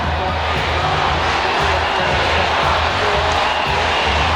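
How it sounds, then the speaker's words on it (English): Cricket crowd chanting during a stoppage in play at Kensington Oval, West Indies versus Australia; a loud, dense, continuous roar of massed voices filling the stadium with a steady, unbroken rumble. "The crowd is chanting, "We want Campbell.""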